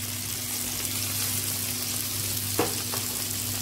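Ginger and garlic frying with softened tomatoes for masala fried liver, a steady close sizzle with a couple of brief stirring scrapes near the end and no talk.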